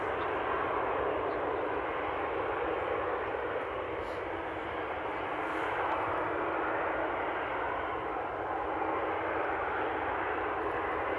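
A jet airliner takes off at Amsterdam airport, a steady, continuous broadband engine roar holding at a fairly even, loud level throughout, with no talk over it.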